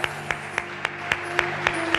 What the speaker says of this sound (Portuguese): Você pode aplaudir o Senhor em nome de Jesus.